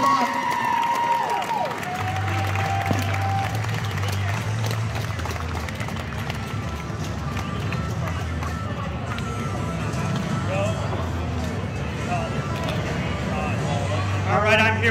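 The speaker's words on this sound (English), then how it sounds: "Give these fighters a huge round of applause for everyone." Spectators at a small-glove Muay Thai title fight in Barre, Vermont applaud and cheer in a sustained wash of clapping and crowd noise, with an announcer talking over it at the start and end.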